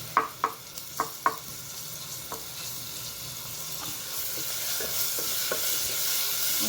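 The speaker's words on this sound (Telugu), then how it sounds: "ఇప్పుడు ఇందులోకి 1/2 టీ స్పూన్ పసుపు, 1 టీ స్పూన్ అల్లం వెల్లుల్లి పేస్ట్ వేసుకోవాలి." Onions frying with turmeric and ginger-garlic paste, opening with several sharp clacks of a spoon against the pan before a steady sizzle builds beneath ongoing stirring.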